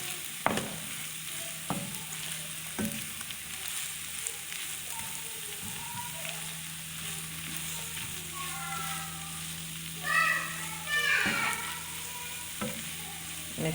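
Spiced potato filling with turmeric and cumin cooks in a pan, a soft sizzle underneath as a utensil scrapes and stirs in irregular strokes, with a few louder clacks and a brief burst of brighter sizzling toward the end.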